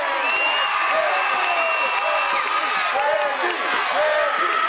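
A lively crowd cheers and roars at a wrestling match at a fair, a loud, sustained wash of voices with whoops rising throughout.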